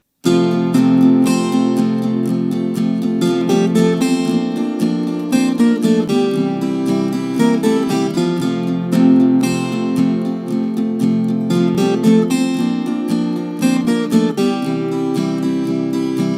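A requinto guitar plays a song at normal speed, a quick, continuous run of bright plucked notes, dense and steady throughout with no pauses.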